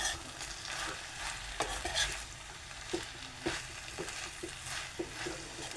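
A pile of amaranth (ambadi) leaves is stirred and fried in a kadhai, giving a steady crackling sizzle broken by regular scraping strokes and soft clicks of the spoon against the pan.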